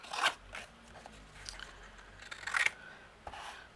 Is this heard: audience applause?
no